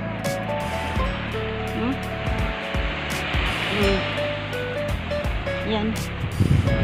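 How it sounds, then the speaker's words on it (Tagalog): Large ocean waves wash and rumble continuously in the background at Shek O Beach, Hong Kong, while people talk over the surf. "tingnan mo yung alon, oh, grabe ang laki ng alon"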